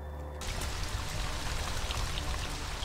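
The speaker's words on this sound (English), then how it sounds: "There seems to be a source of water in that tunnel" Steady rushing water flowing somewhere in a tunnel in the game In Verbis Virtus, a continuous broadband wash that swells in after a brief quieter start and holds loud and even throughout.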